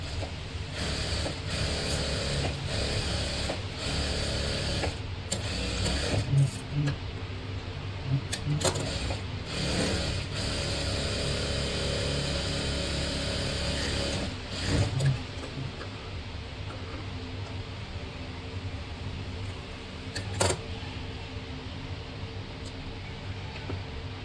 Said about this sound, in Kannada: ನೀಟಾಗಿ ನಾನು ಸ್ಟಿಚ್ ಹಾಕ್ಕೊಂಡೆ